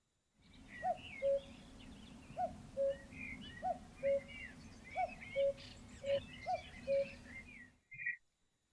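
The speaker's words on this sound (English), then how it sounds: "So this is one of our local cuckoos" A wild cuckoo in North Clare, Ireland, newly arrived in spring, gives a series of repeated two-note calls at a steady pace over a low constant background hum, with fainter songbird chirps around it.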